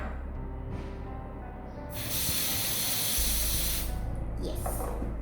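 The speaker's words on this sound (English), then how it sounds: "So first we can take the buds and spray it up." Body spray hisses from an aerosol can onto cotton buds in a steady, close, loud burst lasting several seconds.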